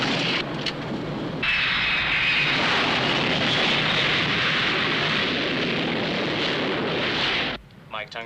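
An airplane comes in to land in a 1977 flight-simulator task, a loud continuous engine roar that swells slightly after the first second and holds steady before cutting off near the end.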